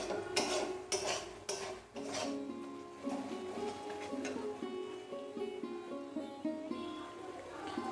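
A spoon scrapes and clinks against a pot as spices are stirred over a low gas flame for a Bengali village-style chicken curry, kasha mangsho. Knocks come quickly at first, then the scraping settles into steady rubbing.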